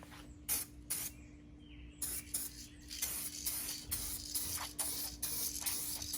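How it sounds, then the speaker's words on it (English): Short bursts of aerosol spray paint hiss repeatedly, some brief and some longer, coating a Ram Sprinter van grille, close by over a steady low electrical hum. "Shoot my second coat."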